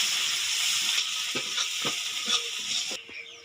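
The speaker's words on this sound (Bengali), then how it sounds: "এর মধ্যে দিয়ে দেবো আমি পেঁয়াজটা দিয়ে এটাকে আমি ভালোভাবে নাড়িয়ে নেব।" Onion frying and stirred in a pan for a Bengali rohu fish curry, with a steady broadband sizzle and a few soft utensil scrapes before the hiss cuts off near the end.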